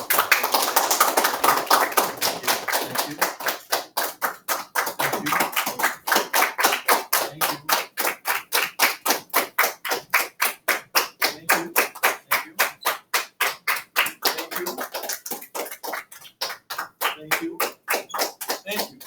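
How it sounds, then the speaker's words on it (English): Classroom applause during a pre-algebra lesson, a steady run of many hand claps that carries on for nearly twenty seconds, loud and close, with a teacher's voice speaking briefly over it. "I guess I'm used to teaching this and getting like a round of applause."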